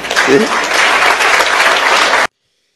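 Steady, dense applause from a crowd fills the space throughout, loud and continuous before cutting off abruptly, with a brief voice near the start.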